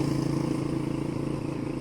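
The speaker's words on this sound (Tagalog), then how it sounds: "Maraming tricycle." Motorcycle taxis, tricycles, pass along a road, their steady engine drone close and continuous with a clattering rumble throughout.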